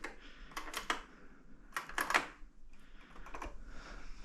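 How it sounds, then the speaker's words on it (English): A mechanical computer keyboard found in an abandoned poultry farm, struck in quick clattering bursts of clicky keystrokes with short pauses, close and fairly quiet. "This is a real satisfying keyboard for all the maniacs that like this sound."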